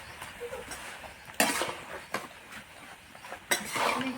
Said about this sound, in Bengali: দিয়ে দেওয়ার পরে নাড়াচাড়া করলাম। নাড়াচাড়া করে নিয়ে ভালো করে মিক্স